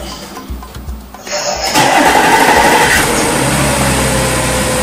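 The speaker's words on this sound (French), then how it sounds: "Et la voiture a démarré." A car engine started remotely by SMS command with its windows already closed. It catches partway through and settles into a loud, steady running drone.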